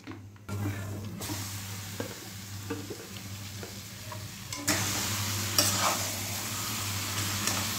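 Marinated meat hits a large hot wok (kadai) with a sudden burst of sizzling that swells louder partway through, while a utensil scrapes and stirs the pieces up close.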